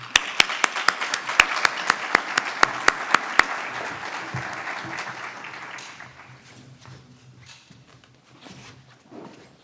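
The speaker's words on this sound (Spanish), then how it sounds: "me gustaría que, ya que es el primer ponente, pues que lo recibiéramos con un fuerte aplauso" Conference audience applause for the first speaker builds with sharp, rhythmic unison claps at first, then dissolves into a softer scattered patter that fades toward the end.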